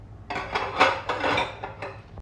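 Dishes, pots and pans clinking and knocking together during washing, with several separate clatters and clanks in an uneven rhythm, close by and moderately loud, with no talk.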